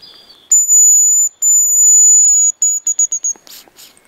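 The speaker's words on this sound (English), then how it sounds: "There's a male up here singing." Male hazel grouse answering a call, thin, very high whistled notes in a few drawn-out strokes followed by short quick trills, clear against near silence.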